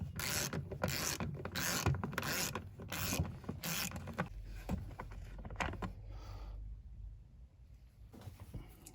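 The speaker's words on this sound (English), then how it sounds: "So we'll just start by removing the bolt at the bottom." Ratchet wrench on an extension loosening a 12mm bolt at the bottom of a panel over the hybrid battery fan of a 2007-2011 Toyota Camry: rapid, close clicking strokes in a steady rhythm, then slower scattered clicks fading out.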